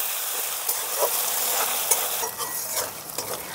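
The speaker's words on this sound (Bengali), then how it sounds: "রসুন, আদা সামান্য একটু ভেজে নেব" Garlic and ginger sizzle in hot oil over a low flame with a steady crackling hiss, broken by a few soft scraping stirs.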